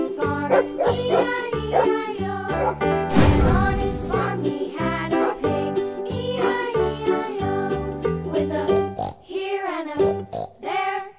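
Repeated dog barks mixed with a lively children's tune, with one heavier burst in the middle, the calls short and close over steady music.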